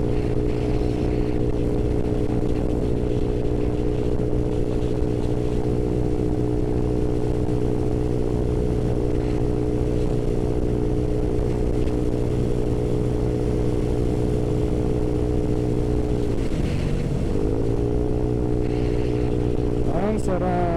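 A motorcycle engine drones steadily and loudly throughout the ride, its pitch dipping briefly and rising again as it shifts.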